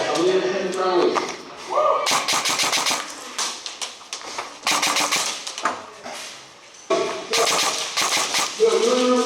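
Airsoft guns fire during an outdoor airsoft game, rapid bursts of sharp clattering shots coming in clusters, with shouting voices mixed in between the volleys.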